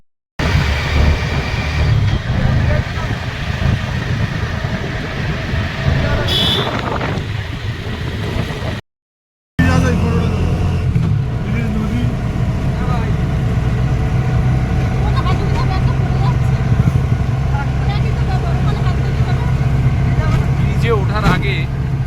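An auto rickshaw rattles and hums along a rural road, close and continuous with a steady engine drone and road rumble, broken by a short silent gap midway.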